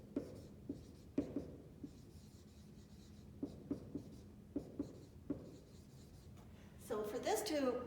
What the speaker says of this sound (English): I'm just going to write this right here.